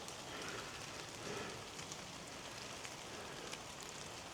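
Rain falls steadily during a country walk from Gainsborough to Upton, a soft, even hiss of drops hitting the surface throughout, faint and unbroken with no voices.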